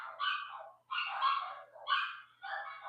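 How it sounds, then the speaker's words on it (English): Dogs bark in quick, repeated bursts, fairly loud and close, with short pauses between volleys and no talking. "You hear them? You hear them? Dang dogs."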